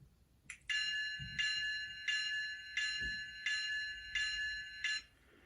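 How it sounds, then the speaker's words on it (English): A model train's DCC sound decoder rings its locomotive bell, seven bright metallic clangs in an even rhythm, close and clear with faint background noise. "F1 is our bell."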